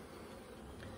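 Honeybees buzzing at the bottom of a hive, a faint, steady hum of many wings over a short stretch with no talking.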